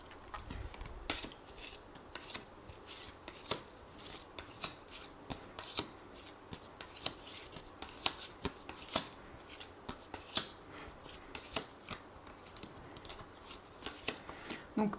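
Tarot cards being shuffled for a reading, close and quiet, with repeated sharp riffling snaps and slaps spaced irregularly across the whole stretch, with a faint voice now and then.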